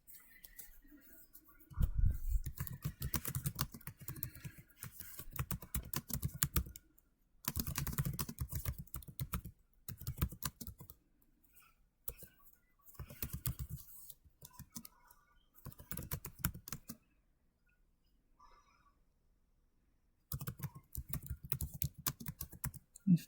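Bursts of typing on a computer keyboard, close and fairly quiet, with clustered keystrokes broken by short pauses and near-silent gaps.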